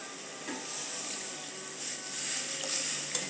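Water poured into a hot pan of chicken cooked without oil bursts into a steady, bright sizzle and hiss, close and continuous, with faint stirring clinks and no talk.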